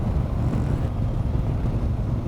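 Strong wind buffets a motorbike rider crossing a high bridge on the windy Isle of Sheppey, a dense, continuous roar that rumbles heavily in the low end and gusts steadily without pause.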